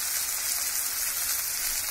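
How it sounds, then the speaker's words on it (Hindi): Masala creamy chicken frying in a pan over a lowered gas flame, a steady, bright sizzle that stays even and close throughout with no voices. "इसको फिर से थोड़ा सा हल्का चला देना है, ऐसे फ्राई कर लेना है।"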